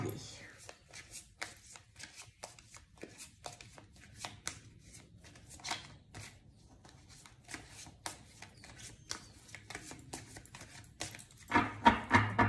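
Tarot cards are shuffled by hand during an Aries love reading, producing a continuous close patter of papery flicks and taps, with a voice talking over it and a denser burst of shuffling near the end.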